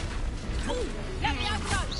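Depulso spell cast in Hogwarts Legacy, a clattering, mechanical burst of magic with creaking and crashing textures, heard close and steady across two seconds while voices speak over it.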